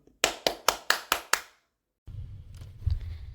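A short burst of six sharp, evenly spaced hand claps close by, applause for a young girl's children's song, followed by a low muffled rumble.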